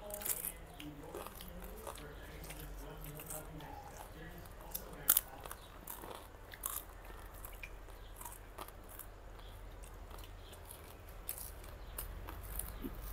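Crunchy Sarvapindi, a Telangana rice-flour flatbread, bitten and chewed close to the mouth in repeated crisp crunches, with faint background voices and room noise around the eating.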